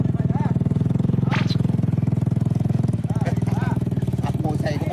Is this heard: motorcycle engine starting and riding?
yes